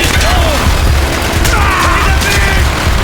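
Gunfire in the video game Call of Duty: Black Ops, a dense, loud barrage of shots and blasts running continuously without a break, with faint shouting mixed into the battle noise.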